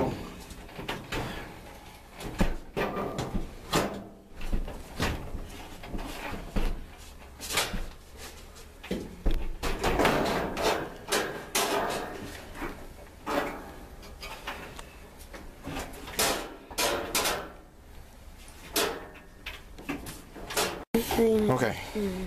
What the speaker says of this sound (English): now that we put the front panel back in place